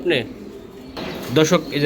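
Racing pigeons give short, low coos up close, mixed with a voice talking nearby.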